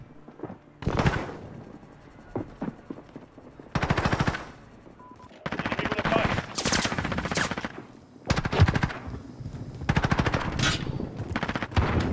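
Repeated bursts of automatic gunfire in a tactical shooter video game, loud volleys separated by short pauses, with faint thuds in between and no talking.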